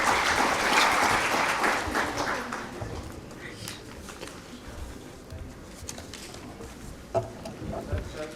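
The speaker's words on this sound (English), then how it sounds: "May we have a huge round of applause, please?" An audience at a hotel industry HR summit inauguration breaks into applause, loudest at first and then fading into scattered claps, with bird cooing and faint voices in the background.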